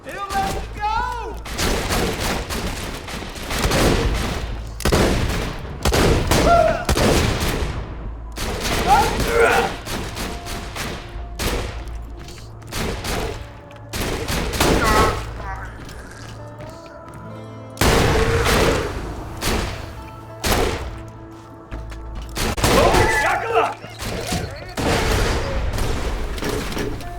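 Heavy Jakobs gunfire in the looter shooter Borderlands 2, loud booming shots in irregular clusters throughout, with brief quiet gaps between volleys and game sounds underneath.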